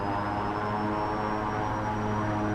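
A simulated airplane engine in X-Plane 10 holds a steady, loud drone at takeoff power, with a continuous harmonic hum and a faint high whine and no break.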